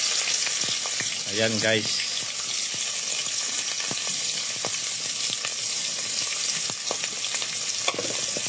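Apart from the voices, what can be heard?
garlic and onion sautéing in a pan for tinola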